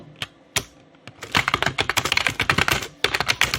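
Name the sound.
typing on a computer keyboard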